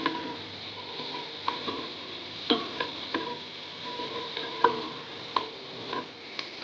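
Onions are stirred in a pan for chicken curry, a spoon scraping and clicking against the metal at an irregular pace over a quiet, faint sizzle.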